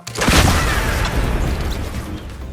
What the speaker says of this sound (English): the enemy started spectating just in time to watch him blow himself up